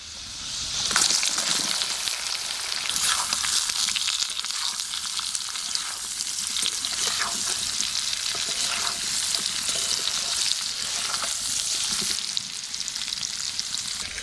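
Boiled potato and young jackfruit fry with garlic in hot oil, giving a steady, loud sizzle. The spatter and crackle keep up throughout, with occasional stirring scrapes and no talk.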